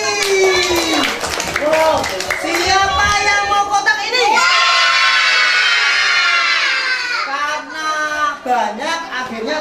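A children's audience at a clown show in Pemalang, Central Java, claps and cheers loudly, with shrill, sustained kids' voices rising over the applause and an adult speaking briefly.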